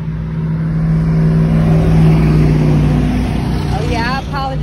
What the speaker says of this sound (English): I'm outside so you can hear the traffic and everybody driving by.